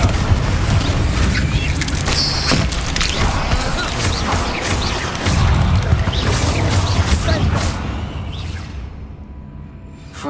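Repeated Confringo fire-spell blasts from a Hogwarts video game, loud booming explosions and crashing debris piling over one another almost without pause before thinning out near the end.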